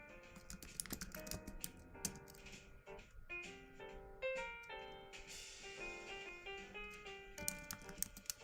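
Fingers type steadily on a computer keyboard, a quick run of soft key clicks with short pauses, heard close under background music.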